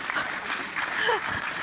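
Brief burst of audience clapping at an AI conference session, moderate and mixed with murmured voices and a faint vocal sound over it.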